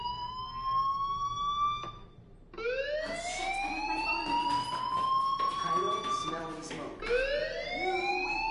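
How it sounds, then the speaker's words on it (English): A school fire alarm in the game Life is Strange wails in rising, looping sweeps, three cycles repeating loudly with a brief dip between them, no voices over it. "do you hear that fire alarm?"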